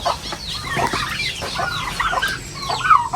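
Turkeys and ducks clucking and chattering nearby, several birds calling over one another in a busy, continuous stream.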